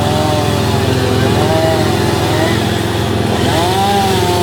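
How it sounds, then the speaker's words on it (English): A chainsaw runs loud and close during tree cutting in village gardens, a steady buzzing engine drone with slight pitch swells as it bites into wood, mixed with a voice speaking. "So they're doing some tree cutting"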